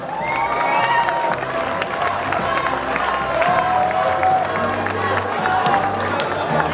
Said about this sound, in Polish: Jeszcze raz gorące brawa!